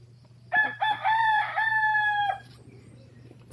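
A single rooster crows clearly and close by, a long drawn-out call lasting about two seconds above a faint steady hum.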